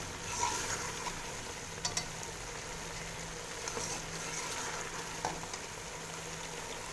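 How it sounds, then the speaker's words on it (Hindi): Cauliflower and potatoes frying in ghee for malai aloo gobi, a soft, even sizzle throughout with a couple of faint stirring clinks. "ये देखिए गोभी हमारी अच्छी तरह भुन चुकी है और घी बाहर आ चुका है।"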